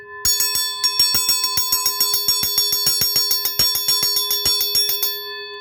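A fire alarm bell's gong, made in Dayton, Ohio, rings close and loud, struck in a quick steady series of bright dings with a lingering metallic tone.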